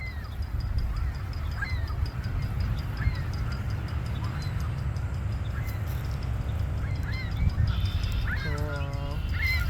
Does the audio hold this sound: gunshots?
no